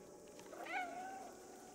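A single cat meow from the video game Stray rises and falls in the middle, fairly close, over a steady hum of game ambience.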